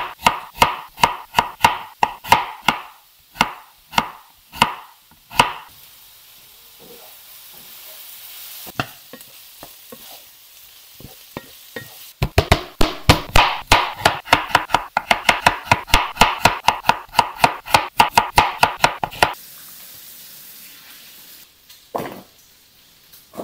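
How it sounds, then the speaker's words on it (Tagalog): A knife cuts an apple into very thin slices on a board, making quick, close, rhythmic taps in two long runs with a brief pause between them and a few stray clicks at the end. "yung hiwa ng apple natin, very thin lang"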